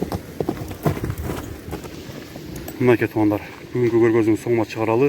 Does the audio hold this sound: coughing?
no